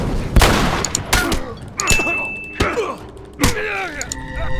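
Gunfire from a sniper in The Last of Us, with several sharp loud shots spaced about a second apart amid game effects and a groaning voice.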